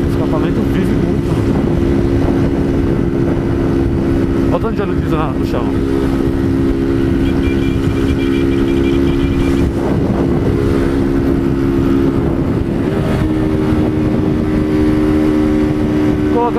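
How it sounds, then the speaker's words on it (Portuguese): Motorcycle engine fitted with a G-Moto Mini exhaust, running steadily with a droning rumble throughout, mixed with wind noise and someone talking over it. "Trocar o escapamento, vamos trocar o G-Moto Mini, né? Pra barulhar um pouco."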